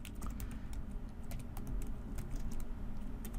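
Fingers type a new PC name on a computer keyboard, a quick, steady run of close, crisp key clicks over a low background hum, with no talking.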